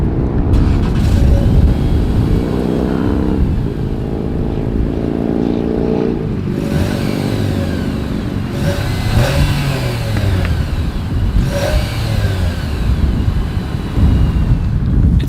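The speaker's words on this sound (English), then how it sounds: "As always, here is that exhaust clip." A 2022 Nissan Sentra's exhaust idles and revs repeatedly, loud and close, with several rising engine sweeps falling back to a steady idle rumble, no talk over it.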